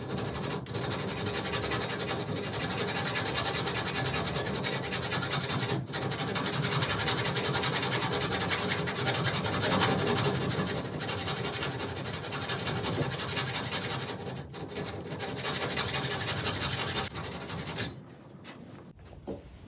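Metal trim molding for a Model A Ford's top front is filed and sanded, a loud continuous close rasping that runs almost unbroken with a few brief pauses before stopping near the end.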